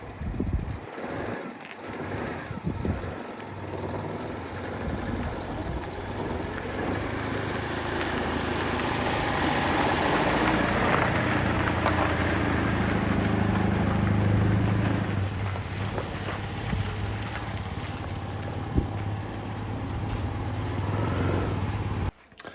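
A Citroën 2CV ice-racing car engine, started for the first time after being parked up for a year, runs at a steady idle, a rough low rumble that builds after a brief start, heard close with some faint background voice.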